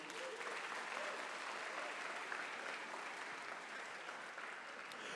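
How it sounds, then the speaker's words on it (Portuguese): A church congregation claps in a steady, continuous wash of applause that stays faint and distant, as if heard from far back in the hall, for about five seconds. "Vamos dar um aplauso bem forte para Jesus."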